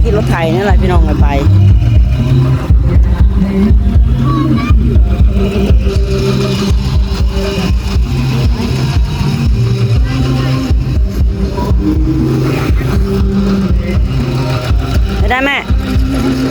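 A walking tractor's steady, loud engine chugs throughout, heavily overlaid with music and a singing voice.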